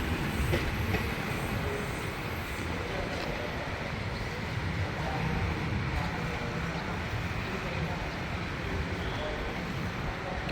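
Train cars rolling past, ending with the last carriage, produce a continuous rumbling clatter of wheels on rails that stays close and steady throughout.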